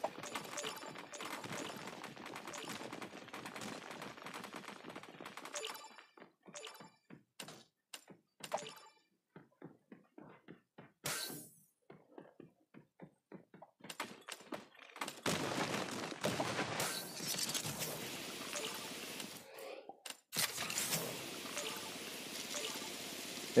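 A turret in the game Creative Destruction fires bursts of rapid shots, with long rattling volleys broken by sharp single bangs and short pauses, loud and close throughout.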